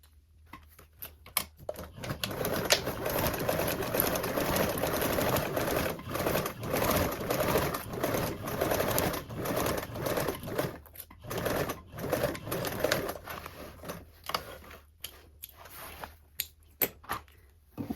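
A sewing machine runs a 3/8-inch seam on a toiletry bag exterior base, steady whirring bursts with brief pauses between runs, close and loud.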